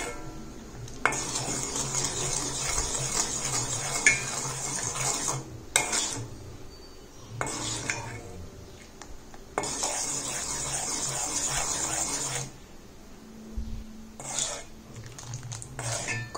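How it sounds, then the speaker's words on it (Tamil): A metal spoon stirring turmeric powder in oil in a pan for a homemade hair dye, with repeated scraping and clinking strokes in bursts separated by short pauses, alongside a faint sizzle. "கைவிடாம நல்லா கிளறிக்கிட்டே இருங்க."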